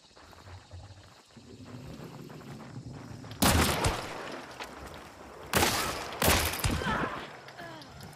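Gunfire in a shooter video game during a hunt: dense bursts of rapid shots crackle loudly over a constant game background, with several sharp volleys clustered close together toward the end.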